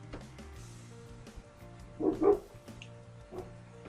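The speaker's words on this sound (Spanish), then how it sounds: "este perrito me tiene bastante aburrido porque ladra por todo" A small dog barking in a home, a short burst of two close yips rising above a quiet music and drawing-tool background, with a fainter bark later.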